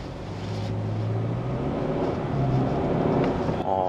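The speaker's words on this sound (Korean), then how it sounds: "그게 바로 터빈 소리인데 이 터빈 소리가 생각보다 잘 들립니다" A Sonata N Line car engine hums steadily with a low drone, a faint turbo whine rising over it near the end.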